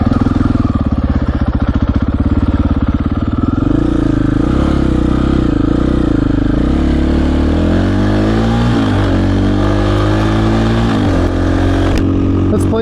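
Engine of a 2020 Husqvarna FE501s dirt bike running loud and close, with steady harmonic drone that shifts in pitch as the throttle rises and falls, clattering texture throughout and a sharp blip near the end.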